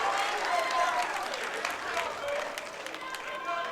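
A crowd at a college wrestling match applauds and cheers steadily throughout, a dense wash of clapping with a commentator talking over it.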